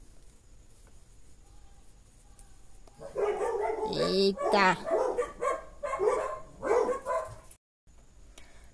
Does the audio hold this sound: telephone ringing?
no